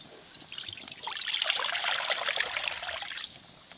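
Water poured over soaked kabuli chickpeas in a home kitchen while making chole, a steady trickling stream lasting a few seconds, close and moderately loud, with no talk.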